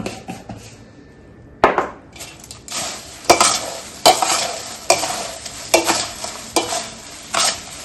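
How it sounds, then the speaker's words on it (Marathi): Poha chivda being stirred with salt in a pan, a steady run of close, loud scraping and rustling strokes with a faint frying sizzle underneath and no talk. "मीठ टाकून चांगलं मी ढवळून घेते."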